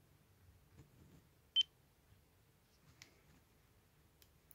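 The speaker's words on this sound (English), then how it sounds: "it will make a little beep when we hit center" A Jeti radio transmitter gives a single short, high beep as the stick reaches center, faint and isolated against quiet background with a few soft clicks around it.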